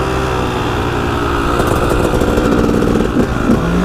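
A motorcycle engine revving hard during a burnout, a loud, rough, steady roar with rising bursts toward the end, close and dominating the scene with no talk.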